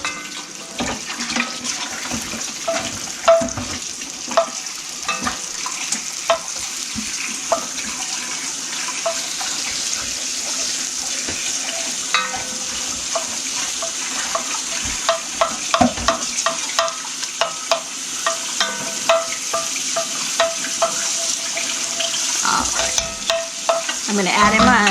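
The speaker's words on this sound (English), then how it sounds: "I'm going to put my onions in and then cook them until they're translucent" Chopped onions fry in melted butter in a soup pot, giving a steady, fairly loud sizzle throughout, broken by frequent clinks and scrapes of a utensil stirring them. No one speaks.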